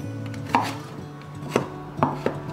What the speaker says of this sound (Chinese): 切丝